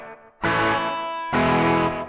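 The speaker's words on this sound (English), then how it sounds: "This would sound better with some effects. Let's add a distortion and a delay." Electric guitar played through distortion and delay plug-ins in a plug-in host: two loud, sustained overdriven chords ring out one after another, the first fading into the second, with no talking.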